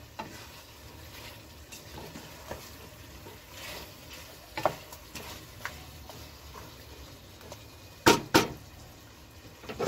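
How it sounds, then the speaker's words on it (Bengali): Mutton rogan josh cooking under a lid in a pan over low flame, a quiet steady sizzle and soft bubbling with occasional louder clicks and taps near the end. "ঢাকনা দিয়ে আমি মাটনটা 10 থেকে 15 মিনিট লো ফ্লেমে হতে দিলাম।"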